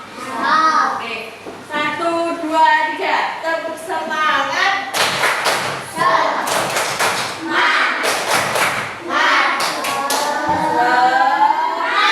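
A class of young children performs a tepuk semangat chant, sharp rhythmic group claps and thumps ringing out in quick patterned bursts between loud, close voices chanting along.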